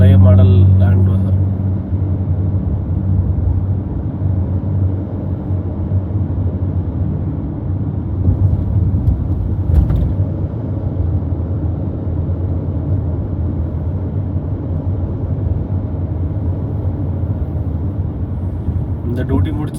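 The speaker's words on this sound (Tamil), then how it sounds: "இங்கே பாருங்க, பழைய மாடல் லேண்ட் க்ரூசர்." An old model Toyota Land Cruiser goes by with a low, steady engine rumble that stays close and even throughout, with a voice heard over it.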